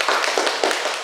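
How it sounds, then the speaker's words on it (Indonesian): A group in a classroom claps hands in brief, dense applause, loud and close, lasting about a second. "Oke, beri tepuk tangan untuk Lisa dan Cika."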